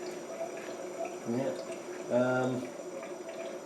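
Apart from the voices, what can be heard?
smoke tester bubbling on a Land Rover Discovery 2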